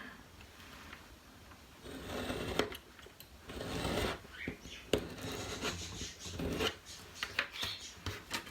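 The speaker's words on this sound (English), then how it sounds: "Trim the edge here." An edge being trimmed with a rasping, rubbing scrape that comes in uneven strokes with sharper clicks, close and fairly quiet.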